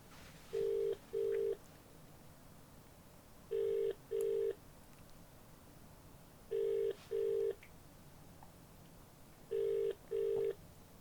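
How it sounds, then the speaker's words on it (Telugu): A telephone call rings out unanswered, with the ringback tone repeating in evenly spaced double bursts, four pairs in all, steady and clear over a quiet hiss. "కాల్ లిఫ్ట్ చేయట్లేదు."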